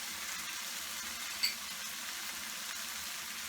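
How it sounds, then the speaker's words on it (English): A steady, dense sizzle of onions, garlic and tomato frying in a hot pan, continuous and close, with one brief faint click partway through. "while the onions, garlic and tomato are frying"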